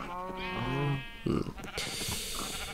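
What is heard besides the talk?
farm animals in a barn, from a video game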